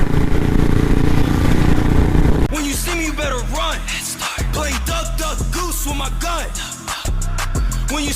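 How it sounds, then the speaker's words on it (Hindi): A Royal Enfield Thunderbird 350 and a Bullet Classic 350 race each other, their engines revving hard with rising and falling pitch and repeated throttle blips over steady road rumble, fairly loud and close. "भाई ने तो रेस लगा लिया।"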